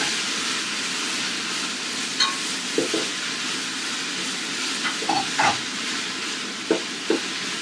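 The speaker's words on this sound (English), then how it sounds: "into the pot and we're gonna give it a stir." Vegetables for a soup chowder get stirred in a pot, a soft steady sizzle and hiss of cooking broken by several faint scraping knocks of the spoon, with no talking.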